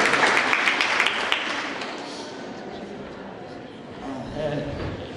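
An audience claps after an interview event with Ludmila Ulitskaya. The applause is dense and loud at first, then thins and fades under continuing room noise.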